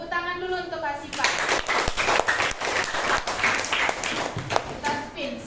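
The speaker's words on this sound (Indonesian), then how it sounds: "tepuk tangan dulu untuk Asifa" Children in a fifth-grade classroom clap together for a classmate, a burst of close, uneven hand claps after a teacher speaks, with a voice continuing over the end.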